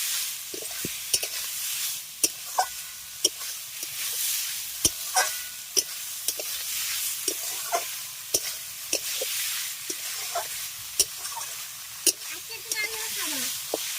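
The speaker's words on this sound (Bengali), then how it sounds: "আগে থেকে ভেজে রাখা চিংড়ি মাছ কাঁকরোল আলু আমি এর মধ্যে দিয়ে দিচ্ছি দিয়ে খুব ভালো করে মশলার সঙ্গে সমস্ত কিছুকে কষিয়ে নেব" Pre-fried shrimp, pointed gourd and potato stir-fried with spices in a pan: a steady sizzle runs throughout, broken by repeated sharp clacks and scrapes of a spatula stirring at an even rhythm, close by.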